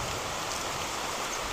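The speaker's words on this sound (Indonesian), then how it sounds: "Hujan." Rain falls steadily in an outdoor garden, a dense, even hiss of drops that stays constant and fairly close throughout, with no other sounds standing out.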